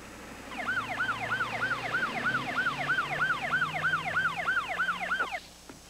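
An advanced life support ambulance siren wails in fast, regular rising and falling sweeps, loud and steady for about five seconds before cutting off abruptly, with road noise underneath.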